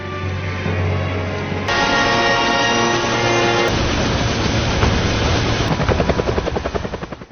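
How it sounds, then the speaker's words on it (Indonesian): A helicopter hovers over a swamp, its rotor a loud roar that shifts into distinct thudding blade pulses as it flies off and slowly fades. "Jack pun mengikuti laju helikopter yang perlahan menghilang dari pandangan mereka."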